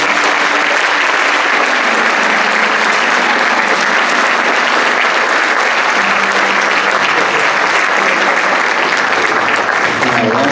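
Loud, sustained applause from a church congregation fills the space steadily for over ten seconds, dense and close, with voices faintly mixed underneath.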